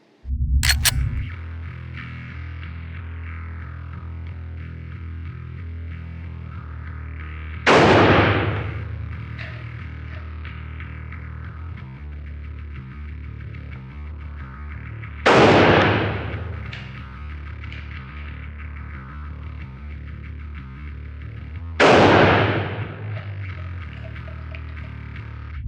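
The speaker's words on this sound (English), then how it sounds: "watch me shoot it in this position for a couple rounds in slow motion" A shotgun fires three spaced rounds, each a loud, sharp blast that decays slowly, with steady low background noise between the shots and no talking.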